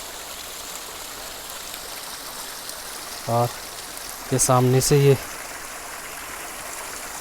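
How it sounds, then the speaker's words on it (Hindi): A forest waterfall's stream near Rudradhari, Kausani, gives a steady rushing wash of water throughout, with someone speaking briefly over it. "ये देखिए पानी की आवाज़ आपको आ रही होगी।"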